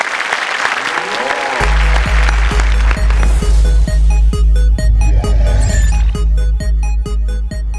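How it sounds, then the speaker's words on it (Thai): Audience applause at a Thai innovation awards event, starting alone and soon overlaid by a loud, steady musical backing track with a thumping regular beat that largely drowns the clapping. "ขอเสียงปรบมือกันครับ"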